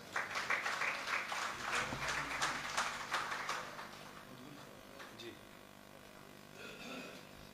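An audience at a mushaira poetry gathering greets a poet with a burst of clapping that fades out after a few seconds, leaving a quieter room with a voice beginning to speak.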